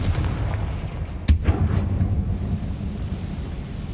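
A Confringo blast spell in Hogwarts Legacy goes off as one sharp, loud explosive crack followed by a rumbling low boom that fades out, over a continuous dull background rumble.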